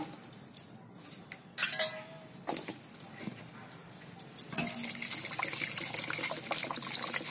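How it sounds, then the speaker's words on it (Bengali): Cut potatoes are rinsed in water, with trickling and splashing, a few sharp clinks against the bowl, and a louder continuous gush of water in the second half. "এবার আলুগুলো আরো 2-3 বার এরকম জল পাল্টে পাল্টে ধুয়ে নেব"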